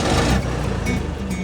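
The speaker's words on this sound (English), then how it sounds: "That switch allows the exhaust to bypass the silencer, making enough noise to frighten off a crowd trying to force their way in." Rolls-Royce armoured car running with its exhaust switched to bypass the silencer, giving a loud, rough, continuous low engine roar close by, with no talk.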